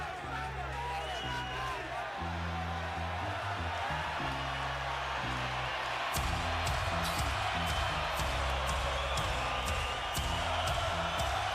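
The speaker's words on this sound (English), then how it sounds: "And the crowd responds to Triple G." An arena crowd roars steadily at a boxing fight for Gennady Golovkin, a dense continuous cheer, with a low rhythmic music beat pulsing beneath and a commentator's voice speaking over it.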